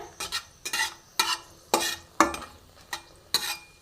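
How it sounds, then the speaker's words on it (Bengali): Dried red chillies frying in oil in a pan, heard as a run of eight or so sharp scraping stirs with a light sizzle between them, close and clear with no talk. "দেখো, তেলের মধ্যে শুকনো লঙ্কাগুলো খুব সুন্দর করে ভেজে নিচ্ছি।"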